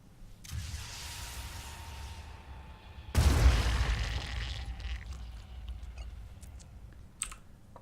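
A grenade blast in the tactical video game Phoenix Point hits suddenly midway as a loud broadband burst, then decays into rumbling debris over a soft steady background hum, with a few faint clicks afterward.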